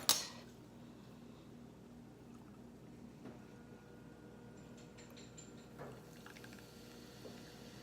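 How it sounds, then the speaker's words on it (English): Coconut LaCroix fizzes as it is poured over the back of a spoon, opening with a sharp crack and then a quiet, continuous bubbling trickle that swells briefly near the end. "Now we are going to open up our coconut LaCroix, and I am just going to pour it over the back of a spoon"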